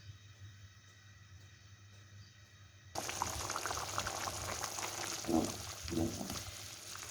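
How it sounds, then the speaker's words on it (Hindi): Red bell pepper and tomato chutney cooks on a low-medium flame. After a quiet opening a soft, steady bubbling sizzle sets in and continues at close range, with a couple of brief thicker bursts. "ये देखें जी, हमारी रेड बेल पेपर चटनी जो है ना वो आहिस्ता आहिस्ता बन रही है"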